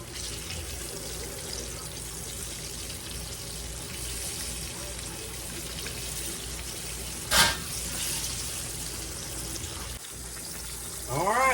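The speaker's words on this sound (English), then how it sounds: "I got them fried up beautiful." Chicken fried steaks frying in a pan for a country supper, a steady wet sizzle running throughout with a brief sharp clatter midway and small kitchen noises near the end.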